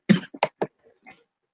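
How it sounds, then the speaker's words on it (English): A person coughs in a quick burst of three harsh coughs, close to the microphone, followed by a couple of faint softer coughs and then quiet. "I'm having a cough attack."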